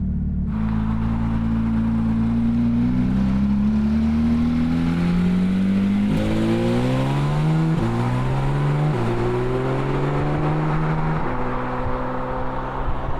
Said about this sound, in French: on ouvre l'échappement, foutons la merde